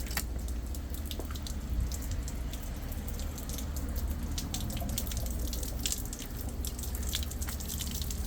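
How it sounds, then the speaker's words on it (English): Water runs from a garden hose to flush a 250 hp HPDI outboard motor's lower unit, a steady hiss and rush with scattered drips and splatters, continuous and fairly close, with no talking. "so now I'm going to open the water hose"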